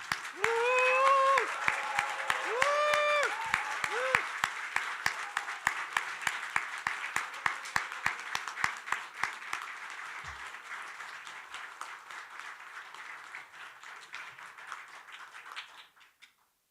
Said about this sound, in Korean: 여러분 모두 자리에서 일어나셔서 큰 박수로